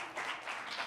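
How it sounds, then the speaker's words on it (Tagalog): Young people in a church congregation clap together in response to a pastor's call, a dense, steady patter of many hands filling the room for about a second with no voice over it. "Pumalakpak nga lahat ng kabataan"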